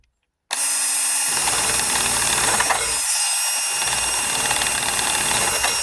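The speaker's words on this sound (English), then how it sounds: "Finish it up with the drill a little" A power drill with a sanding attachment starts after a brief silence and then whirs loud and steady while it sands, with a short dip in pitch partway through and no talking.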